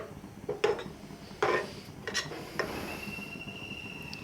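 A spoon scrapes and knocks against a pan while green peas curry is stirred, a few scattered clinks and rubbing scrapes, soft and close, with no talking.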